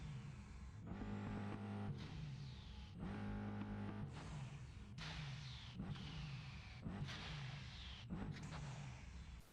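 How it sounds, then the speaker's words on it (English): A Bugatti Veyron's W16 engine roars in the racing game Test Drive Unlimited Solar Crown, revving hard through a run of gear changes with sharp pauses between each climbing pull, loud and close with no talking. "please take a listen to this W16 on the Veyron"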